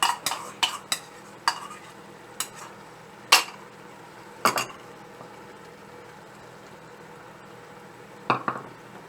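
A spoon scrapes and clinks against a pan while lamb chops masala is stirred, giving a quick cluster of sharp knocks at first and then a few spaced taps over a quiet cooking hiss.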